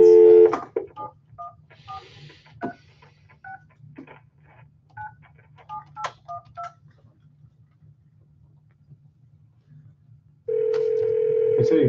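Touch-tone telephone dialing for a call-in radio show guest on a cell phone: a quick series of distinct keypad beeps of varying pitch, followed by a steady dial tone near the end, with faint background voices.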